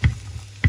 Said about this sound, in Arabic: ومع تانيك بيت بابر ديالنا البصل والفلفل تحطهم يتقلاو